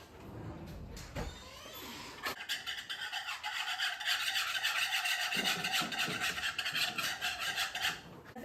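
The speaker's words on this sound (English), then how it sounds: "then I'm gonna whisk that together" Milk is whisked into a mixture for breading chicken, a steady scraping and rubbing rhythm against a bowl that runs close and clear for most of the stretch, with a few sharp knocks near the start.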